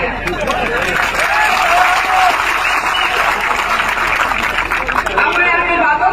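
An audience at an outdoor political rally applauds loudly and continuously, dense clapping mixed with crowd hubbub that carries on without a break.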